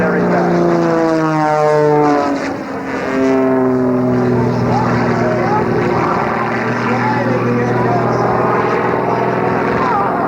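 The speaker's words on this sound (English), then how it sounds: "Now watch carefully as he flies this aircraft sideways." Aerobatic propeller airplane at a 1994 Rhode Island Air National Guard air show, flying low and fast sideways, its loud engine drone sweeping down in pitch as it passes close, with an announcer talking over it.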